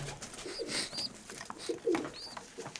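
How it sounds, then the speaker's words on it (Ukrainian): Pigeons coo softly in a few low, rolling phrases, with faint chirps and light rustling around them. "Так, ну тут такі голубенята є."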